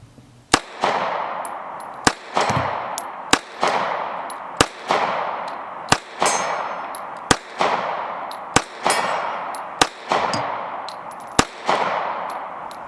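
A 1911 pistol fires Tula ammunition from a 10-round magazine, with about ten sharp, loud shots spaced roughly a second apart, each followed by a short ringing echo.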